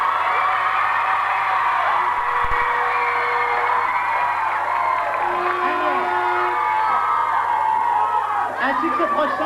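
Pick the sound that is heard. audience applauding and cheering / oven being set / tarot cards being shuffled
audience applauding and cheering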